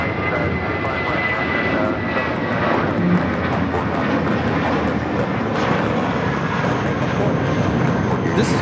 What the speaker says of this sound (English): This is Volaris 7855 taking off to Aguascalientes on the A320.